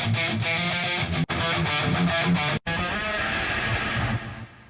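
A heavily overdriven electric guitar in E standard tuning plays thick, fuzzy metal chords with two abrupt cutoffs, harsh and loud throughout before a ringing, slowly fading tail.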